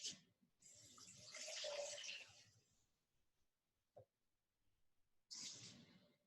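Warm tap water runs into a container for challah dough, a steady rushing stream for about two seconds that tapers off, followed by a small knock and a second burst of running water near the end.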